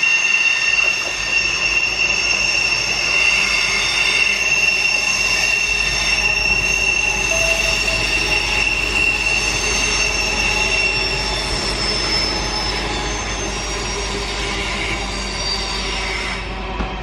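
NGR passenger train pulling into Petrie station in Brisbane, with steady high-pitched wheel squeal over a low rumble of the cars rolling in, continuous and fairly close, no voices.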